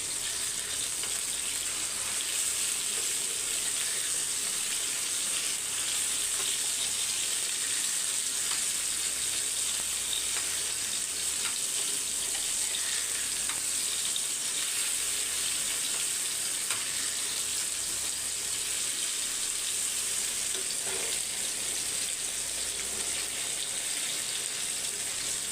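Sankara fish frying in a pan while being turned, giving a steady, loud oil sizzle that runs unbroken the whole time, close up, with no talking.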